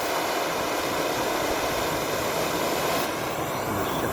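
A propane torch roars steadily up close while heating a metal scraper, a dense continuous rushing hiss that holds level for a few seconds before shifting slightly in tone.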